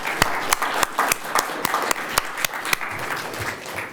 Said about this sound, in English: shall we respond with a round of applause